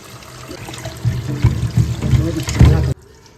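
Water splashes and trickles over mutton bone pieces being rinsed, a close run of uneven sloshes that builds and then cuts off abruptly.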